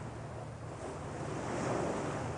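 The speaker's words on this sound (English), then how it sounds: "In Norway, they use the energy of the waves to create electricity with this water column." Ocean waves surge against a steel wave-power water column on the Norwegian coast, a steady broadband wash with wind noise that swells louder toward the end, no voices.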